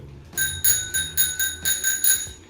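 A bicycle bell rings up close in seven quick, bright dings, each with a short metallic ring, and no one speaks.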